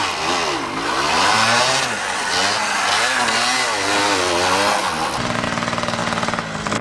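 A Fantic 125 enduro motorcycle engine revs loud and close, its pitch rising and falling through several throttle bursts and then settling into a steady, buzzing two-stroke drone at an enduro event.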